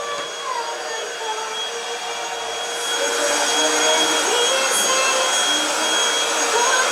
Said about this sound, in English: She's hoovering and singing.